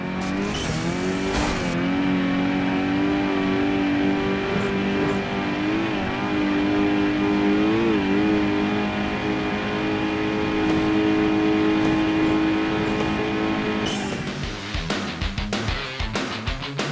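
A car engine in a street racing video game drones loudly and continuously, its pitch rising and falling as it revs and shifts, with the tone changing abruptly near the end.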